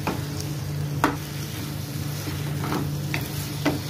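Chicken being stirred into frying spice masala in a pan, a soft continuous sizzle with periodic scraping strokes of the spoon, close and fairly quiet, no voices.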